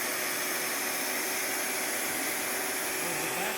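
Workshop vacuum cleaner on an automatic switch running continuously, a loud, steady broadband whoosh with a faint whine and no pauses.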